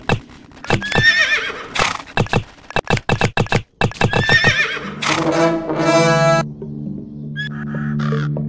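A horse whinnies loudly as hooves clip-clop in a quick rhythm while a player rides into battle in the Warrior Kings Battles strategy game, with a higher whinny near the end.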